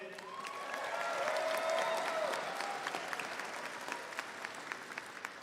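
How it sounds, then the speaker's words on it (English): Graduates applauding themselves at the University of Houston-Victoria winter commencement, a full hall of clapping that rises quickly, peaks with a few cheers and then thins into scattered claps. "give yourself an applause. Let me hear it."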